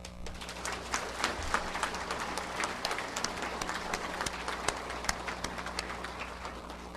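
Staff at a monthly city government assembly give a steady round of applause, a dense patter of many hands clapping at moderate distance over a low hum.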